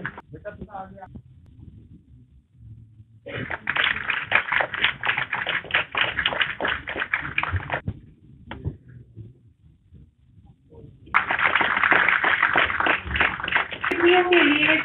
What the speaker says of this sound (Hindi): तालियां मैं चाहूंगी ना रुके इन बच्चों के लिए